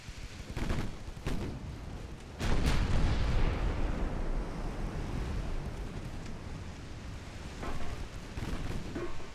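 Heavy battleship guns fire in a naval warfare game, with deep booming blasts around two and a half seconds and again near the end, followed by a long rumbling roar. Several sharper reports come early in the sequence.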